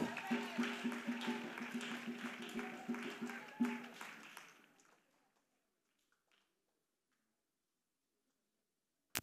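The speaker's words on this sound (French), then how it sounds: "Acclamez très fort." Clapping from a crowd at a church prayer gathering, steady rhythmic claps fading out after about four seconds into near silence.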